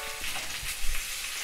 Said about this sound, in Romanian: Nu știu dacă se și aude, probabil se și aude cum sfârâie.